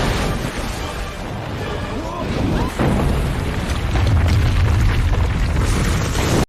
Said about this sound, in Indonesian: Anaconda itu meledak sampai membuat bebatuan di sana runtuh